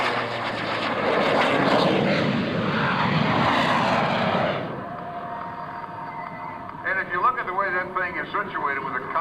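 Propeller airplane performing at an air show, an old-style racer with a rear-set cockpit, droning loudly at first and then dropping away, with a voice speaking over the quieter tail.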